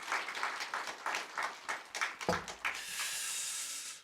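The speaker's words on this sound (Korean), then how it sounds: "하나님께 영광의 박수를 올려드리고" Congregation clapping in a church worship service, a steady patter of many hands in a large room that fades into a soft sustained hiss near the end.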